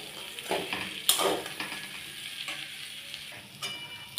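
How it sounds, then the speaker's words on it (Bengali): Peas, tomatoes and cauliflower-potato vegetables stir-fried in a pan, with a steady sizzle broken by scraping stir strokes and a sharp clink of the spatula against the pan. "এইবার আমি একটু ভালো করে আর একবার কষিয়ে নেবো, যাতে টমেটোগুলো একটু গলে যায়।"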